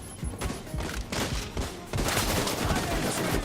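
Dense bursts of automatic gunfire from turrets in the shooter game The Division 2 come in rapid, loud volleys with short pauses, then a sustained barrage.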